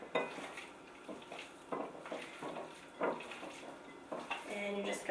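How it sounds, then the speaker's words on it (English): Ground beef worked together with barbecue sauce and chopped yellow onion in a bowl, giving soft wet squelches and light clinks of a utensil against the bowl in an irregular rhythm, close and fairly quiet. "you're just going to mix it up until all the barbecue sauce and everything is mixed in"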